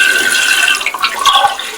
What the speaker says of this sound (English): Add water. Let it just be at the middle of the pot.